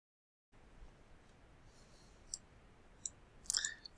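Sharp mouse clicks on a computer during sprite editing in game-building software, a few isolated clicks near the end, including a quick double click, over quiet room hiss.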